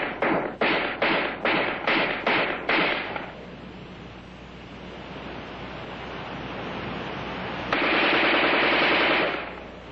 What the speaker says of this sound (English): In offhand firing against a man-sized target at combat range, the AR-10 is in a class by itself